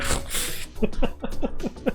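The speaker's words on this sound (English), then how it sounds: "I might have to sneeze, hold on." A person sneezes, a sharp breathy burst up front followed by a rapid series of short snorting sniffs, close and fairly loud with no talk.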